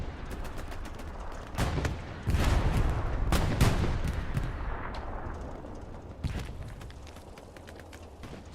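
An anti-tank gun fires in a competitive video game match on the Purple Heart Lane map, heavy booming shots over a constant clatter of gunfire and distant blasts.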